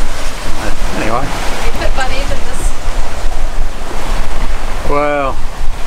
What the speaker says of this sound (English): this surge sort of pressing against the island and it's making the waves quite sort of steep